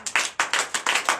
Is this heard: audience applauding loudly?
yes